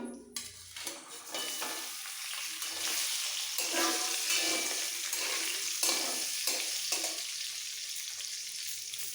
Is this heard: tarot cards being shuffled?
no